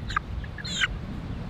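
Small young chickens give two short, high clucking calls close by, one brief and one slightly longer, over a low steady background rumble indoors.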